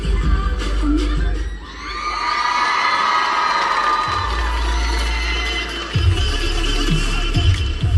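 A crowd at the Comic Con Ukraine convention cheers and whoops loudly and continuously after a stage performance, with a few bangs and shouts near the end.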